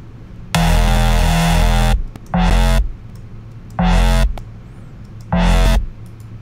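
Thick FL Studio synth patch built from square and sine oscillators with FM and clipping, playing four loud, distorted, buzzing stabs: one long held note, then three shorter ones with pauses between, no voices.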